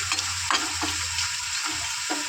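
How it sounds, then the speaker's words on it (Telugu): Ginger and garlic dry frying in a pan without oil, with a steady crackling sizzle and several stirring scrapes spaced about half a second apart, loud and close, with no voices. "అల్లం వెల్లుల్లిపాయ ఇవన్నీ ఇవి కొంచెం లైట్గా ఆయిల్ లేకుండా ఫ్రై చేసుకుందాం"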